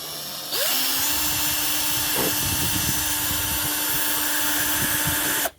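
A power drill bores a hole through the metal of a homemade DIY crutch, whirring steadily at close range for about five seconds before stopping abruptly.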